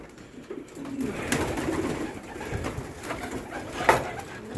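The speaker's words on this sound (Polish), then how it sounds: "Zobaczycie teraz gołębia" Racing pigeon cooing close by in a loft, soft murmuring coos rising and falling across the whole stretch, with a sharper call near the end and no talking.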